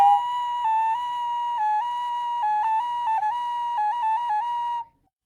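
A ceramic ocarina with a clear, pure tone plays a slow melody of held and stepping notes for about five seconds, then stops, with no voices.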